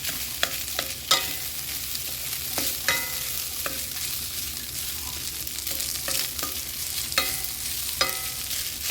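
Rice is stir-fried with a little soy sauce in a pan, a steady sizzle under repeated scraping, clanking strokes of a spatula at an uneven rhythm, close and with no talking.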